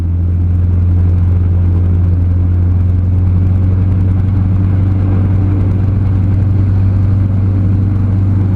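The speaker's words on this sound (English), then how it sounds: "Let's bring the engine RPM up to that." Gyroplane engine held at high RPM during a ground run-up before flight training, a loud, steady droning rumble with a strong low hum that stays constant throughout, with no talk.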